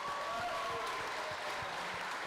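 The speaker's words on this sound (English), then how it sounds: "this was a round of applause congratulating my wife on meeting me" A live podcast audience in a Raleigh theater claps in a steady, dense wash of applause that fills the room from start to finish.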